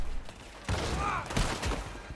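Gunfire rings out in the video game Red Dead Redemption 2, a loud fusillade of overlapping shots with echoing crackle over a shootout at a tower, filling the moment with no talk.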